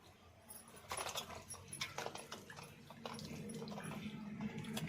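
Fresh cashew fruits are washed in water, with splashing, sloshing and light knocks of fruit against a vessel, close and moderately quiet, flowing water building steadily toward the end.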